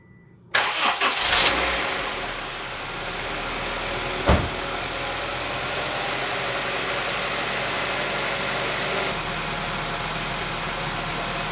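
A junkyard Honda CR-V, freshly fitted with a new head gasket and timing belt, cranks briefly and fires, then settles into a steady loud idle that carries on alone, with a short sharp knock partway through.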